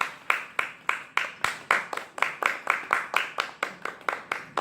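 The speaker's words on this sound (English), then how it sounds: "So give yourselves a round of applause." Scattered claps from a small audience at a Start Fresh 2019 gathering, about twenty sharp claps in a loose, steady rhythm over several seconds, fairly close, with no voices over them.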